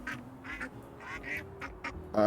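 A cartoonish duck in the game Little Kitty, Big City quacks in several short, bright bursts at low volume, with a faint tone humming underneath.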